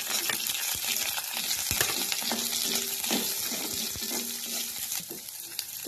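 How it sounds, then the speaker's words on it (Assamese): Onion and green chillies fry in a wok of oil with five-spice seeds and a few peanuts, a close, continuous crackling sizzle with occasional clinks and stirring scrapes, no voices. "এতিয়া পিয়াজ আৰু জ্বালাখিনি দি দিছো"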